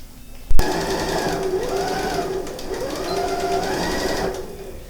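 A sewing machine stitches the lining of a zippered cosmetic pouch, starting with a sharp click and then running in a steady, fairly close mechanical whir with rhythmic rising and falling pitch for several seconds, while a voice talks softly.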